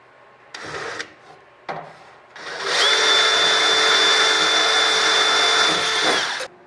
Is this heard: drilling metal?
yes